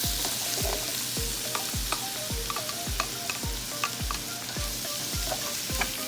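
Shrimp stir-frying with green peas and carrots in a hot pan, a constant close sizzle broken by regular, rhythmic spatula strikes and scrapes roughly every half second.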